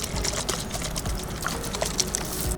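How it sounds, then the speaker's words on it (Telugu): Rose water poured over a second layer of partly cooked rice in a Nizam-style chicken dum biryani, giving a soft, close trickle and splash of liquid that runs steadily through the short moment. "మళ్ళీ దాని మీద సేమ్ ఇలాగే వేసి రోజ్ వాటర్ను కూడా వేసుకుందాం."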